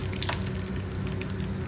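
A tempering is poured into a tomato curry on the stove and sizzles steadily at close range, a continuous frying hiss over a low hum.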